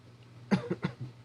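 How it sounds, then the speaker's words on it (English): A short burst of three or four close coughs with spluttering, in quick succession, the first strongest, trailing off into quieter throat sounds. "Cough, cough, splutter, splutter."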